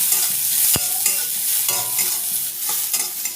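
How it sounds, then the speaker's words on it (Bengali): Chopped onion dropped into hot oil and stirred, frying with a loud, close sizzle and repeated scraping strokes of a spatula against the pan, one sharp knock early on. "একটা কুচি করা পেঁয়াজ দিয়ে দেব।"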